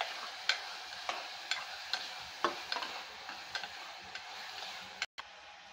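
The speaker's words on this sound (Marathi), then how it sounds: "2 ते 3 मिनटं तुम्ही त्याला छानपैकी भाजून घ्या." Onion, tomato and capsicum sautéed in a pan for veg biryani: a spatula scrapes and taps in a loose rhythm, roughly every half second, over a faint background sizzle, close and clear.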